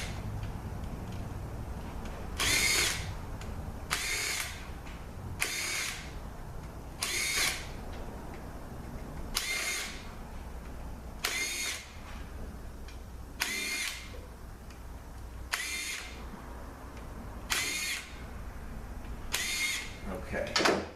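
A power drill spins out pump bolts on a ZF6HP19 automatic transmission during a teardown, with about ten short bright whirring bursts spaced every couple of seconds, close and fairly quiet, and talk in between.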